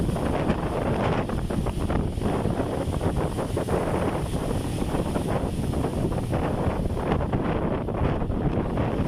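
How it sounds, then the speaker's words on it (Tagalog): Strong typhoon wind roars and buffets the microphone while ocean waves crash and surge underneath at Baseco Beach, Manila, continuous and loud with no voices. "Ang lalakas po ng alon dito mga boss at napakalakas ng mga hangin."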